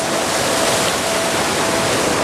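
Raging High Sierra mountain creek rushes loudly and steadily, a dense close-up roar of whitewater with no voices over it.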